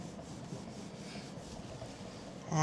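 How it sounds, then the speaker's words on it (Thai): A red velvet cake is sliced into layers with a wire cutter, giving a steady, soft rubbing and sawing rasp that continues close and alone for the whole stretch, then a brief louder tonal burst at the very end. "แล้วเราค่อยๆเฉือนไปค่ะ เฉือน เหมือนกับที่เราเลื่อยไม้นะคะ"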